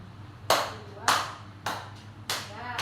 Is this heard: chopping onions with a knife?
no